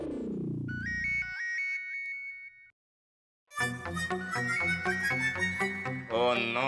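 An electronic phone ringtone plays a repeating melodic tune, pauses briefly, then a second busier ringtone melody starts up loudly.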